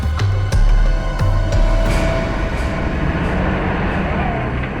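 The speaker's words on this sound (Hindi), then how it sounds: "ट्रक की आवाज? ट्रक जंगल में?" A truck drives through jungle, giving a continuous low rumbling engine drone with a few sharp clunks near the start, moderately loud and steady throughout.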